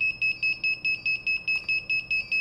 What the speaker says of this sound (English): This is the buzzer and LED.